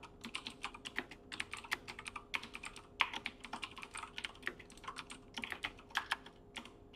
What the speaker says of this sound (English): now when we go to type our code